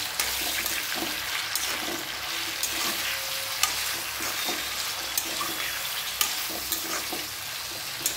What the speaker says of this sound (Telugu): ఆనియన్స్, పచ్చిమిర్చి, బెండకాయ అన్నీ ఒకేసారి వేసుకొని వేయించుకోవాలన్నమాట.